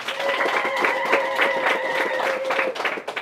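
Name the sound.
congregation applauding the priest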